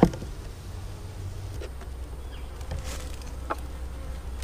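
Honeybees buzzing around an opened hive in the fall, a continuous close hum with individual bees droning past the microphone.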